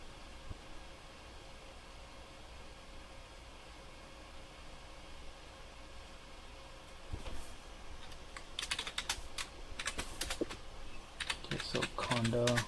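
Typing on a computer keyboard, entering a Linux terminal command: quiet, faint background hum at first, then a burst of irregular close key clicks growing busier toward the end.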